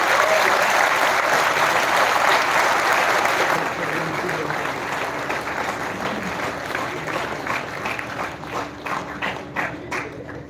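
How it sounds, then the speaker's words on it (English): An auditorium audience gives sustained, loud applause for the chief guest at a college tech fest inaugural function, dense clapping that slowly thins and tapers off over about ten seconds. "Give him a huge round of applause."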